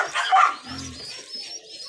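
Pigeons coo close by, a short low throaty coo after a brief higher-pitched call, with faint background noise and no talking.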